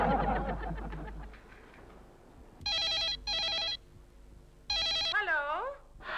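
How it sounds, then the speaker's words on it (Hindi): A telephone rings in a domestic comedy scene, sounding in two pairs of loud electronic ring bursts after some quiet speech at the start, with a warbling tone trailing the last burst. "हम पारो को फोन कर रहे हैं"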